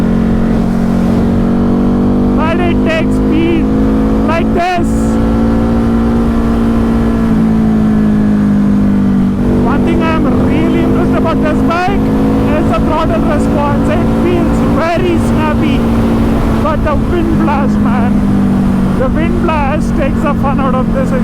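A Ducati Hypermotard 950 RVE, a street motorcycle, revs and accelerates with a steady, rising engine drone that runs throughout, with a person talking over it.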